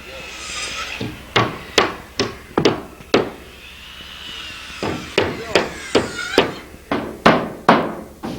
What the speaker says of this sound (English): he's actually nailing these studs up before he puts his Ranger board in